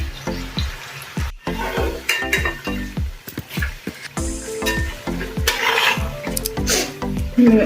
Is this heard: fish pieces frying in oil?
yes